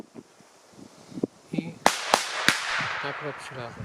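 Several sharp pops from jumping Volt 3-3 XP1017 Triplex firecrackers burst in quick succession at close range, with scattered crackling and brief voices between them.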